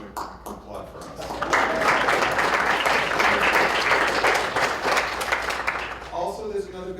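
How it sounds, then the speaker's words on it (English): Applause from an audience at a poetry reading swells from a few scattered claps into dense, sustained clapping, then tapers off as a voice begins speaking. "I'm going to applaud for us."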